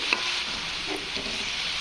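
Gravy for a chana dal amti frying in a pan, a steady broadband sizzle and crackle that stays even and close throughout, with no voices.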